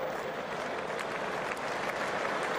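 A cricket crowd at the Oval applauds during a 2007 England versus India Test as Dinesh Karthik bats his way to 91. The clapping is steady and fairly distant, with faint crowd murmur.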